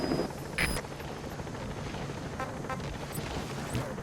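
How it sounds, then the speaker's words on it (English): Support helicopter arrives in a video game, a steady rotor thrum and engine roar holding throughout with a few sharp bursts and clicks over it, no talk. "Support helicopter has arrived."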